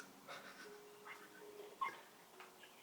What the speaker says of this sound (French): c'est pas moi qui a crié, c'est le chien.